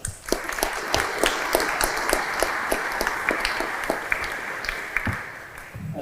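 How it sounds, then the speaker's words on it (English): At a Rotary sports awards evening, an audience gives sustained applause: many hands clapping in a continuous rattling wash, with a few sharper individual claps standing out before it thins near the end. "Let's give Rotary a round of applause."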